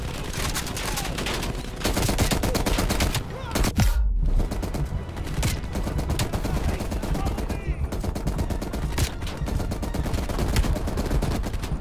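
Gunfire in the Call of Duty Black Ops Cold War video game, dense continuous bursts of automatic weapons and shots, loud and close, with brief voice activity mixed in.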